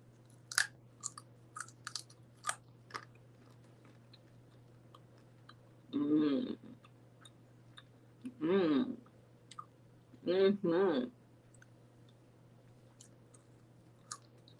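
Close, crisp chewing in three distinct bursts as thick jicama flat chips are bitten and crunched, separated by quiet pauses with small clicks and mouth sounds.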